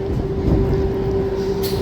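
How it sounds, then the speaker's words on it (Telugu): An empty MEMU train stands at Balanagar station, giving off a steady low rumble with a sustained tonal hum, close and continuous, with a short hiss near the end and no talk. "ఇక్కడ కూడా ఒక ట్రైన్ ఉంది, ఎంటీ ట్రైన్."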